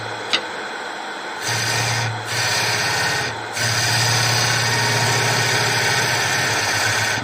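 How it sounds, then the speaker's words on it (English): A power drill whirring into wood on a wood-turned Art Deco candlestick in three bursts, short stops between, the last run long and steady with a low rasping hum. "I'm going to drill that hole first"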